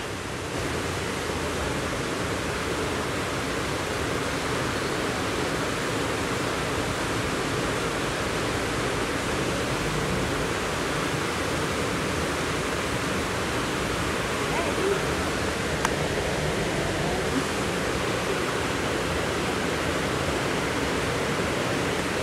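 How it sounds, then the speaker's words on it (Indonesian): Heavy rain pouring as a steady, dense roar that fills the whole stretch without letting up, close and loud. "Gak tahunya Hujannya gede banget ya"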